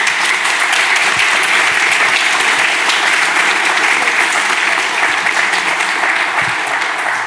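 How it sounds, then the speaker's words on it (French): A crowd applauds two guests at an event about Joséphine Baker, steady dense clapping that stays loud and even throughout, with no talk over it. "Je vous propose de les applaudir tous les deux."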